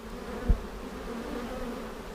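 Honey bees at an open hive holding a laying queen, a steady low buzzing hum throughout with one brief thump near the start.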